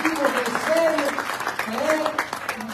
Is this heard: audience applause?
yes